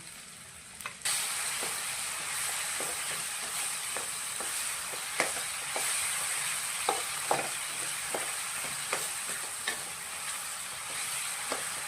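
Onions and other kara chutney ingredients fry in a pan, a continuous close sizzle broken by frequent sharp taps and scrapes of a stirring spatula, with no voices.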